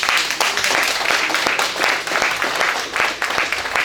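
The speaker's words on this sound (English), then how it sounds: "Nous demandons un bel applaudissement pour nous." An audience at a university fundraising evening claps steadily, a dense wash of applause that holds at an even level without a break, with faint voices underneath.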